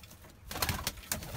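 Pigeons in a coop give soft, brief coos and rustles close by, faint and short against low background noise.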